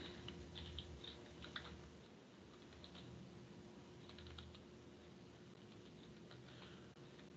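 Quiet, steady typing on a computer keyboard, close and soft, with irregular bursts of keystrokes over a low hum and no talking.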